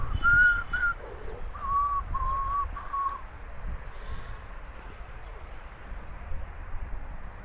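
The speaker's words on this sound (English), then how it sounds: "What are those birds called?" Birds calling outdoors, a few short whistled notes early on over a low rumbling background, fading into steady ambient noise.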